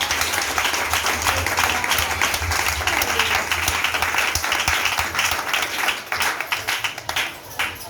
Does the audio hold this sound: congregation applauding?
yes